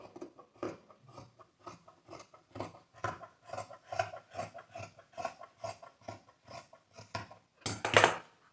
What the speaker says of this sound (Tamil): ஒரு ஒன்றரை இன்ச் வரைக்கும் ஷேப்பிங் வந்து கொடுத்து கட் பண்ணியிருக்கேன்